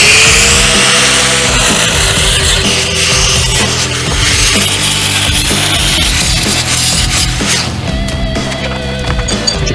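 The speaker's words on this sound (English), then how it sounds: "the only plasma cutter I got is on the table, so cutoff wheel it is" Cutoff wheel grinding through metal on a 1961 GMC truck during a C-notch job, a loud, steady abrasive screech running without pause under a workshop din.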